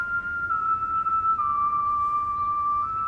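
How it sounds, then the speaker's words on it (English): A thin, sustained whistle holds steady pitches with a small step down partway through, sounding over quiet background noise in the video game Trails Through Daybreak, with no talking. "someone actually whistling, or is it just background noise?"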